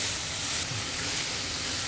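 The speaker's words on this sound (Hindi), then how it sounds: "2 से 3 मिनट हमने चिकन के साथ लहसुन को फ्राई किया है।" Chicken breast pieces and garlic frying in a pan, a steady close sizzle and hiss that runs throughout without any talking.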